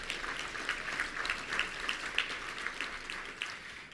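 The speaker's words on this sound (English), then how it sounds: "Let's give them a round of applause right off the bat." Steady applause from a luncheon audience at a touchdown club event in Little Rock, a continuous moderate patter of many hands with no talk over it.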